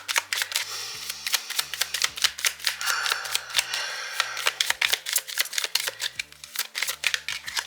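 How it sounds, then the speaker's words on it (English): Rapid riffling and slapping of tarot cards being shuffled, crisp repeated bursts in uneven clusters, close up with no talking. "We're gonna keep on shuffling."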